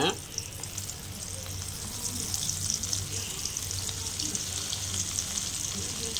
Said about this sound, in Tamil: நம்ம எண்ணெய் காஞ்சிருச்சு வாங்க ஃப்ரெண்ட்ஸ் இப்போ காஞ்சிச்சு வாங்க நம்ம கருவாடை போட்டுக்கலாம்